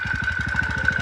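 A four-stroke moped engine runs right after a pull start, close and steady, with a fast even putter and a sustained whine over the pulses.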